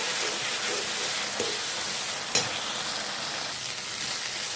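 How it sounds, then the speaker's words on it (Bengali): Spice paste for brinjal and poppy seed curry frying in oil that has begun to separate, giving a continuous dense sizzle with a couple of faint stirring knocks. "এই মশলাটা আমার কষানো প্রায় হয়ে এসেছে তেলটা ছেড়ে দিয়েছে"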